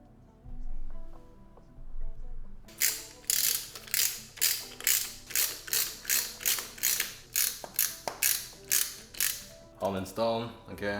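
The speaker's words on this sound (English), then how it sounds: "I'm gonna bolt that down to specs" A hand ratchet tightens bolts on accessories of a Nissan RB26 engine in a Skyline R32 GT-R, a steady run of loud, rhythmic clicking strokes starting after a quiet opening and continuing to the end.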